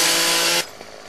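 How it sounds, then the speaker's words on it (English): A chainsaw in the video game 7 Days to Die roars loud and harsh, then cuts off abruptly partway through, leaving faint background sound. "Gotta love that chainsaw"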